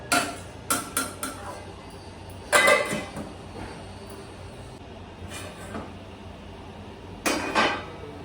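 Three beaten eggs get stirred into ridge gourd in a pan for egg bhurji, then a lid goes on: a few sharp metallic clinks and clatters of spoon and lid against the pan, separated by quieter stretches with low background hum.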